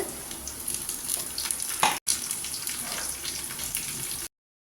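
Cashews, raisins and curry leaves fry in ghee inside a pressure cooker for ghee rice, giving a steady, close sizzle with faint stirring scrapes and a brief break partway through.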